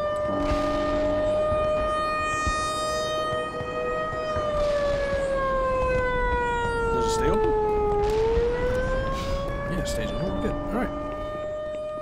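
Sirens in the video game Black Mesa, a long wailing tone that slides slowly down and back up, loud and continuous, with a voice talking and clanking sounds underneath.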